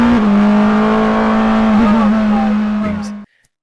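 Porsche 963 race car engine screaming at a loud, steady high pitch for about three seconds with a slight waver near the end, then cutting off abruptly into near silence.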